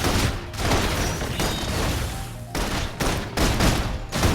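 Sustained, dense bursts of rapid gunfire and blasts in the video game Love and Deepspace fill the whole stretch, loud and continuous with brief dips between volleys.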